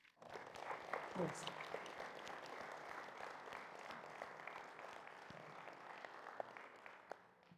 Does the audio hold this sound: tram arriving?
no